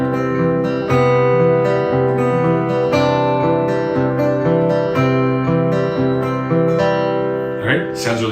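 An acoustic guitar plays a fingerpicked riff in a lesson, with steady rolling arpeggios ringing close and full and no talking over them.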